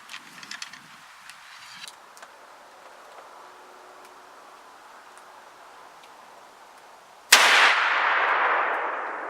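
A muzzleloader rifle firing a 300-grain .44 caliber Hornady XTP sabot at a 50-yard target during a New York deer season: faint ticks and quiet outdoor ambience, then one sudden loud shot with a long decaying tail near the end.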